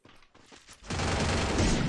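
Gunfire in a competitive 4v4 shooter match: a few scattered light sharp shots followed by a sudden loud, sustained burst of rapid fire that keeps going.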